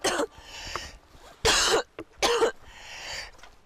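A person with a cold on a mountain trek coughs in three harsh, hacking bursts with short gaps between them, close and loud, with no talking.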